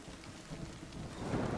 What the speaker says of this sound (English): There's literally a hailstorm.